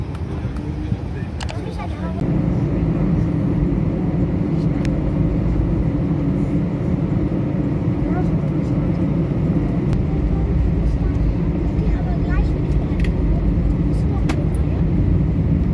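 Steady airliner cabin rumble on a Barcelona to Düsseldorf flight before takeoff, a continuous low engine and ventilation drone that swells slightly after the first couple of seconds, with faint voices and occasional clicks over it.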